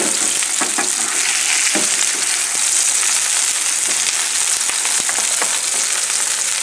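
Eggplant frying over a high flame, grease splattering: a steady, loud broadband sizzle with crackling pops and spits throughout, close up and with no voices.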